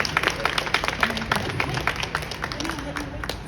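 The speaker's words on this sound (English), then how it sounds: "Give her a round of applause for that answer." Audience applause breaks out at a boxing press conference for Claressa Shields and Franchon Crews-Dezurn, a steady patter of claps with crowd murmur and voices mixed in throughout.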